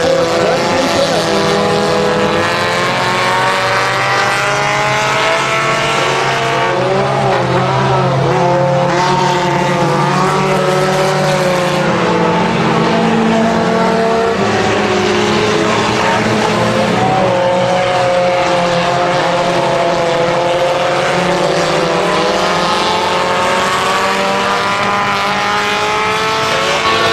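Race cars roar around a speedway in a 250 class race, a loud, continuous wall of engine drone with passing whines rising and falling as the pack laps.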